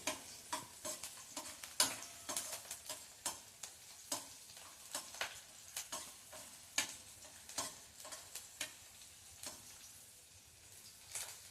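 Chillies sautéed in a pan with garlic crackle and sizzle softly, with repeated sharp stirring taps of a spoon against the pan in an uneven rhythm, close and fairly quiet.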